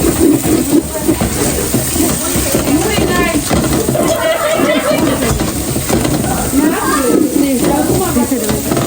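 Masala paste stir-fried in a pan in a home kitchen, a steady loud sizzle with scraping and stirring while people talk in Bengali over it.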